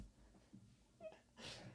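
A house cat meows a few times, wanting to be let in; the calls are short and fairly faint, with a brief breathy sound near the end.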